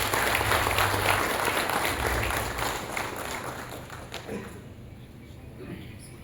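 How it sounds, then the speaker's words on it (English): Loud audience applause at a cooperative week award ceremony in Shillong: a dense wash of clapping that gradually thins and fades toward the end, with no voice over it. "A huge round of applause once again."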